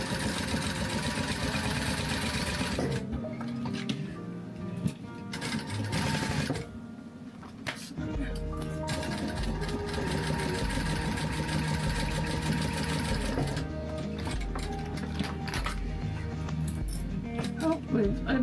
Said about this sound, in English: stitch all the way around the edge of this